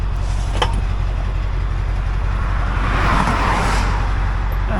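Fast cars roar past on a highway in a steady, loud wash of traffic noise, with no break between vehicles and a brief louder swell as one passes close.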